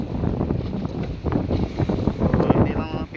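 Strong wind blows at sea around a small boat, a loud, continuous, gusty buffeting of the microphone with rough, fluctuating bursts, while a voice talks underneath.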